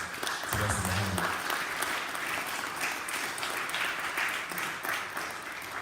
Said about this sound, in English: let's please give a warm round of applause to Wesley Muhammad.